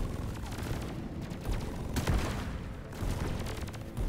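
Gunfire in the video game Deep Rock Galactic: a continuous rattle of rapid shots, with heavier bursts and booms landing every second or so, fairly distant and layered over rumbling game noise.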